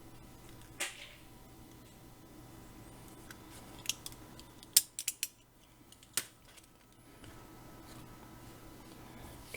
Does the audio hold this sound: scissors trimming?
yes